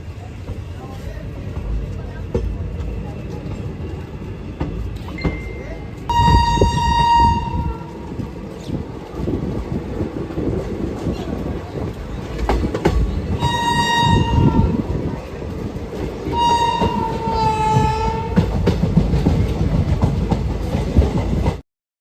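Local passenger train on the Pathankot to Amritsar line in Punjab, rolling between stations with a steady loud rumble and rattle. Three separate bursts of the horn sound over the noise, one short and two longer.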